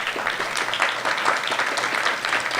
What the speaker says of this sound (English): Please give Kathy a resounding applause